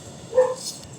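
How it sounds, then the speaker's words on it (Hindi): A dog barks once or twice in the background, a faint yip rising briefly over a quiet room. "पीछे कुत्ता भौंक रहा है"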